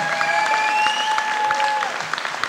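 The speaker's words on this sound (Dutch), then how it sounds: "Je krijgt een geweldig applaus nu al" An audience applauds a contestant on the 2015 Indo's Got Talent stage, with steady, fairly close clapping under sustained tonal music notes, the clapping thinning slightly toward the end.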